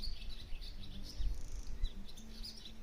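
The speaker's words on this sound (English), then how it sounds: "the first thing that hit us was the bird song." Birdsong in rural Scotland around a cottage, repeated high chirps and short tweets at moderate distance over a low ambient rumble, no talking.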